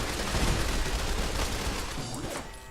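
Assault carbine, a modded weapon in Fallout 4, firing in a fast unbroken burst of gunfire, loud and dense throughout with no pause, alone without talk.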